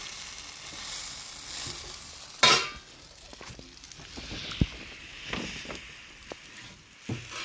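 Bread frying in ghee in a pan gives a soft, steady sizzle, broken by a louder hiss as a piece goes in and by scattered light clicks and scrapes while it is turned.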